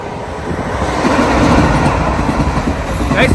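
A train rumbles past close by, a steady loud roar of wheels and rail noise building and holding throughout.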